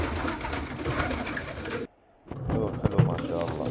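Zaz pigeons coo in a loft, soft throaty calls heard close by amid a busy background of rustling and bird noise, interrupted by a brief silence before the cooing resumes.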